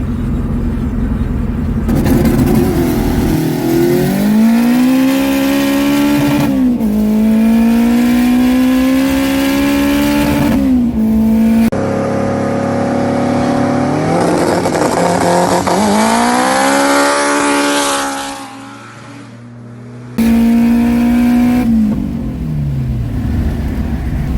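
A turbocharged K20-swapped Honda Civic making around 300 horsepower accelerates hard through repeated gear pulls, its engine note climbing steadily in pitch, then dropping at each shift, loud and close with no talking.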